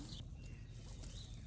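Chicken clucking softly in a muddy chicken run, a few low calls close by over a steady outdoor background, with no one talking.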